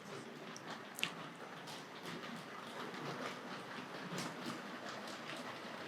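A Tri-ang R.150 BR black B12 model locomotive pulls maroon and cream coaches around a curve, giving a quiet continuous rolling hum with faint clicking wheel noise and an occasional sharp tick.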